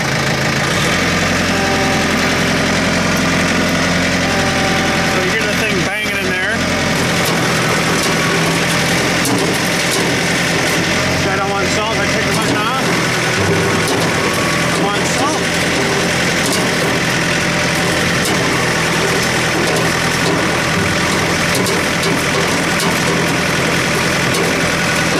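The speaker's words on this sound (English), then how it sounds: "So I just drive the tractor as normal, and then push the bottom button when I want salt." Tractor engine running steadily with a salt spreader attached, a loud close continuous idling drone with some knocking texture and mechanical clatter, unchanging throughout.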